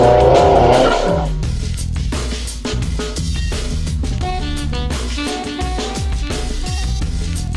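A 1963 Volkswagen Bug with a 420-horsepower turbocharged Subaru STI engine accelerates hard, its engine roaring loud and close with tire squeal, rising through the revs.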